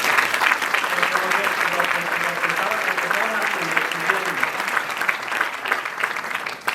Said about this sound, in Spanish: Yo creo que por lo menos un aplauso para estas dos chicas,